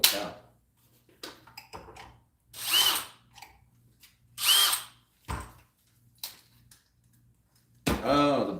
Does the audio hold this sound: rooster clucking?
no